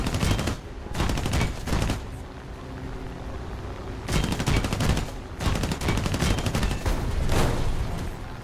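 Aircraft machine-gun fire in a flight combat video game, friendly fire hitting an American-marked BF-109, loud sustained bursts of rapid gunfire broken by short pauses, with no talking.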